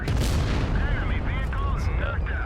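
A tank cannon fires in World of Tanks Blitz, a booming blast at the start with a rumbling tail, followed by wavering mechanical whines and battle noise that continue throughout.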